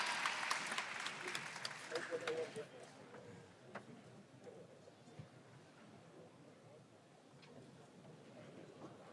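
Faint, distant applause from the audience at the Rubik's WCA World Championship 2023 3x3x3 final, crackling most densely in the first few seconds, then thinning to scattered claps over quiet room noise.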